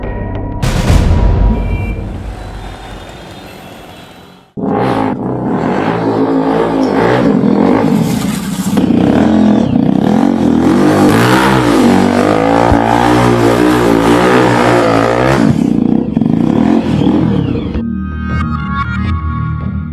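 A motorcycle engine revs hard and loud, with rising and falling throttle surges sustained for most of the stretch after a brief drop near the start.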